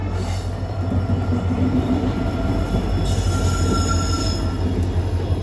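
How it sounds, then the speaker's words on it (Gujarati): A train passing on the tracks at a railway crossing in Dhoraji, a loud steady rumble of rolling wagons with a high wheel squeal partway through, no talking. "એ ટ્રેન તો ક્યાં જતી હોય કંઈ ખબર નહીં."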